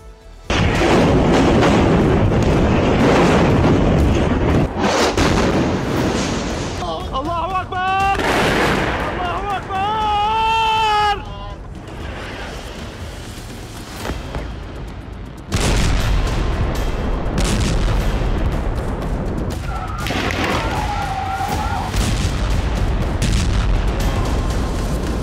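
Bombing and artillery strikes on Gaza, heavy booms and rolling blasts that fill the clip, with a siren-like wailing tone in the middle and later stretches of rumbling aftermath.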